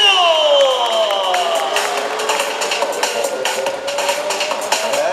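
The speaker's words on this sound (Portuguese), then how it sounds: "girou e a galera aplaudiu" A crowd cheers and applauds at a motorcycle stunt show while a bike engine revs and swoops in pitch. The cheering is loud and continuous, with a spatter of clapping running through the engine noise.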